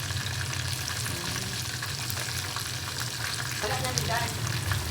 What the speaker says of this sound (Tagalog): Inisa ko lang siya sa sibuyas, bawang, luya. Ayan, saka lagyan ko siya ng gata guys.